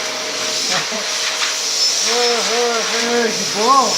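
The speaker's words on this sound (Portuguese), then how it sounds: "Deixa eu terminar de aspirar aqui." A vacuum cleaner hisses and whirs steadily at close range while cleaning near a Labrador, with its motor pitch rising and falling. A person speaks briefly over the noise.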